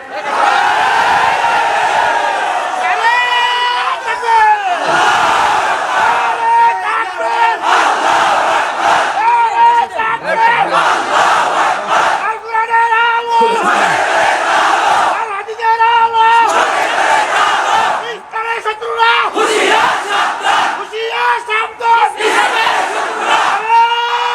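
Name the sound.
large crowd chanting the takbir (Allahu Akbar)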